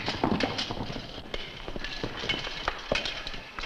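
Several horses gallop along a trail, their hooves striking in quick irregular clip-clop bursts, moderately close and loud, with no talk over them.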